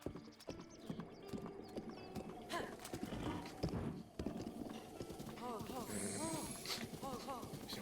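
Horse hooves clip-clopping in the video game Breath of the Wild, a steady trotting rhythm with an occasional whinny and some game music, quiet and under a talking voice.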